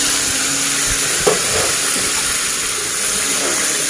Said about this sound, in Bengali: এইবার দিলাম পেঁয়াজ